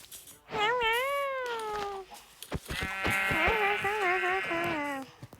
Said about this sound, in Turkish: Aha koyun buldum.